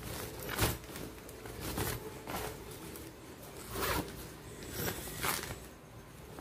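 The zipper on an inexpensive lunch box bag is pulled back and forth several times, close raspy zips repeating roughly every second amid crinkly handling noise.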